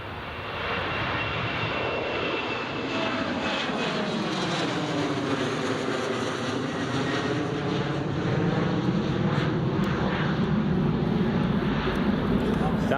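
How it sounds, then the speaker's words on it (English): A Belgian Air Force A400 transport aircraft makes a derated takeoff, its engines producing a steady, loud, continuous roar that holds for the whole stretch while people talk over it. "That was a D-rated takeoff."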